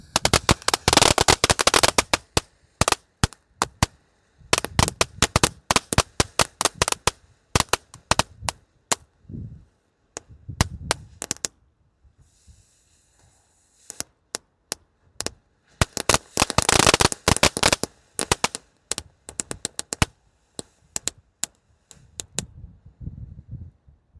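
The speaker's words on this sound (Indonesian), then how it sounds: "Selanjutnya yang kita nyalakan di sini adalah mercon flower power, air mancur protek bola warna-warni." A flower power fireworks fountain that shoots colourful balls burns outdoors with dense bursts of sharp crackling pops, coming in loud clusters with brief lulls between them.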